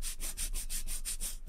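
Rapid rhythmic sanding strokes on a small Matchbox 1986 Volvo 760 model car part, about eight quick back-and-forth rubs, close and fairly quiet, with no talking.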